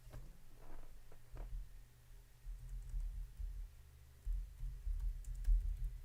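Someone types on a computer keyboard in quiet, irregular bursts of soft, dull key presses under a faint hum, with no talking.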